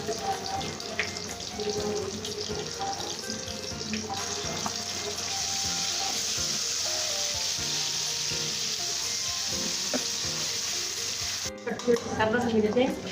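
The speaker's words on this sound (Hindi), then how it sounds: "अब मैं अदरक लहसुन का पेस्ट डालने लगी।" Ginger garlic paste hits frying onions in a pan for a home-style aloo gobi, giving a steady, close, moderately loud sizzle with occasional stirring scrapes, and a brief clatter near the end.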